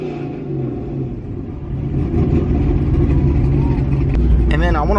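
Cammed Chevrolet Corvette engine revving up, a loud, steady rumble that swells and holds, with voices talking over it near the end.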